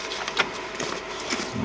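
Epson C6500 label printer feeding label stock in, a steady mechanical whir with short motor bursts and clicks across under two seconds, close by and moderately loud, with no voices.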